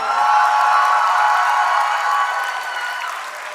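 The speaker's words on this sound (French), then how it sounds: "Je vous demande d'applaudir bien fort" An audience at a cosplay contest breaks into dense, loud applause that holds steady and then slowly tapers off, with a little cheering mixed in.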